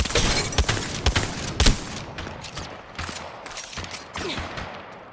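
The Mozambique shotgun firing in a video game, a burst of sharp shots followed by more scattered blasts amid ongoing gunfire, loud and close with no talking.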